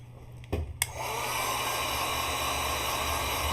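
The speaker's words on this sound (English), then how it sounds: "I'm going to get my dryer out. So this makes a big noise" After a couple of brief clicks and knocks, a hair dryer switches on to dry watercolour paint, then holds a loud, steady whooshing roar close by.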